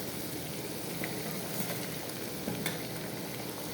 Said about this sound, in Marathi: चांगल्या प्रकारे मी कांद्याची पेस्ट तेलामध्ये मिक्स केली आहे